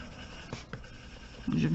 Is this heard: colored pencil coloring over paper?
yes